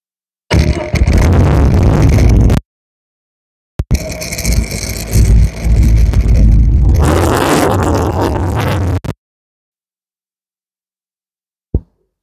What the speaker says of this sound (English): Let's go ahead and step inside and turn on the vehicle.